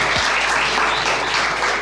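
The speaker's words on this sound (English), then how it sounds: "let's welcome Naresh Narasimhan and Arjun Nambisan with a huge round of applause" A dense wash of audience applause, many hands clapping at once, steady and loud for the whole short stretch.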